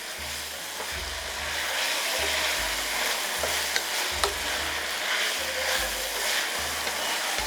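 Sausage frying and being stirred in a big pot, a constant sizzle with scraping stir strokes and occasional clinks, close and steady, with a low repeating hum underneath.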